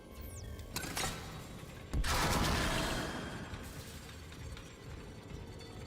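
Blade weapon primary fire in the Dead Space video game: a sharp metallic burst at two seconds with a ringing, shattering tail that fades over about a second, amid dense game sound effects, no talking.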